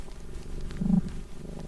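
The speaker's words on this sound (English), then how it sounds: "Can you hear Sasha purring?" Domestic cat purring close to the microphone, a soft low rumbling purr that swells briefly in the middle, heard alone.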